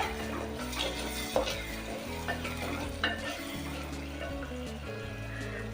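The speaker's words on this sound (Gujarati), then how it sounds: "એકવાર હલાવી લેશું સારી રીતે" Steady sizzling and frying with a spoon scraping and stirring through mixed vegetables in a clay pot, a few louder knocks against the vessel.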